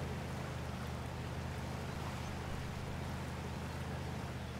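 A truck reversing through a river in Spintires: MudRunner, a continuous low engine drone under a rushing wash of water, steady and unbroken throughout.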